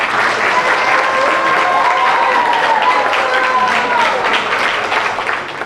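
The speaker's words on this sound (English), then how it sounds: "please join me in giving a warm round of applause" Guests at a wedding reception give loud, continuous applause, a close and full crowd of clapping hands that holds steady for several seconds with faint voices mixed in.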